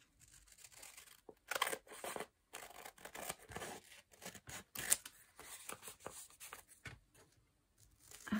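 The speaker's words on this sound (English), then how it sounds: "Scissors." Scissors cut through freezer paper and fabric in short, quiet snips and crinkly rustles. The cuts come in uneven bursts with brief pauses between them, close by and fairly faint.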